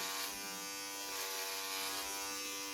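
Electric hair clippers run steadily while cutting hair at home, a continuous close, even buzzing drone lasting the whole moment with no speech.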